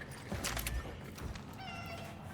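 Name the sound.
cat meowing in video game Cronos: The New Dawn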